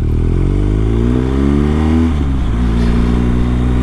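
A BMW R1250GS motorcycle with a BT-Moto Stage 1 upgrade revs loud and close, its engine note climbing steadily in pitch before dropping back and holding at a fast idle.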